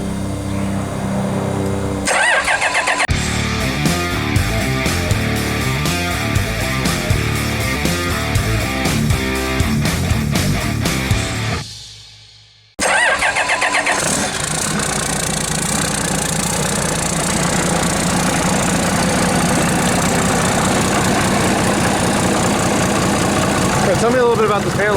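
A Cummins QSB 5.9 380 hp diesel marine engine runs with a rough, knocking rumble, cuts out briefly, then restarts and settles into a steady loud idle on an engine test.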